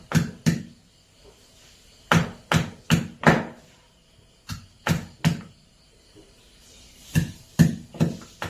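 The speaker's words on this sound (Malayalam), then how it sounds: "ഇനി നമുക്ക് ഇഞ്ചിയും വെളുത്തുള്ളിയും ചതച്ചിട്ടെടുക്കാം" Ginger and garlic pounded to crush them: sharp, close thuds in short bursts of two or three strikes, separated by brief pauses.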